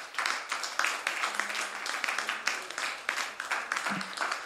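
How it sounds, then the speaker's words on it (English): A church congregation claps in praise, a dense, fairly faint run of rapid handclaps filling a room, with a brief low tone in the background. "Let's give Jesus a clap offering of praise."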